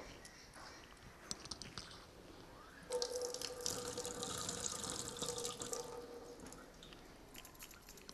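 Tap water runs into a conical flask being rinsed for a chemistry practical, a steady splashing stream that starts strong about three seconds in after a quieter trickle, with occasional drips and no talking.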